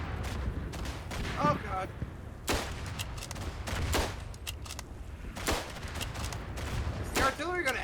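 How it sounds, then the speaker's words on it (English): Artillery fire in the WWI video game Verdun, repeated booming impacts and gunshots over a constant rumbling battle bed, with a man's brief exclamation in the middle. "Is the artillery gonna ever stop?"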